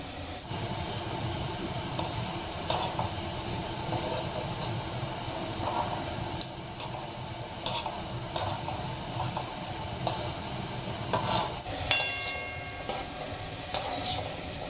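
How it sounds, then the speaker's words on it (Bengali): Biscuit-based gulab jamun balls fry in oil over a medium-low gas flame, giving a steady soft hiss with scattered light ticks and stirring knocks throughout. "এই গোলাপ জামুনগুলো তেলে ভাজার সময় গ্যাসের ফ্লেম মিডিয়াম টু লোতে রেখেই ভাজতে হবে"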